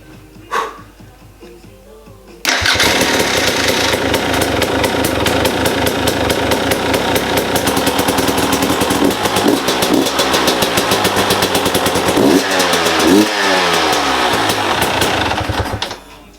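A 300 TPI two-stroke motorbike engine, freshly fitted with a new oil tank, is kicked over and then catches, settling into a loud, rapid, rattling idle with occasional revs before cutting off near the end.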